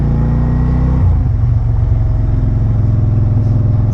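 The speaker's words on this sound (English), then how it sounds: "You hear when I downshift, it blips." A 2010 RS SE5 engine held at a steady loud drone, then blipping on a downshift with a quick rev change before settling into a lower, rougher throb, close up.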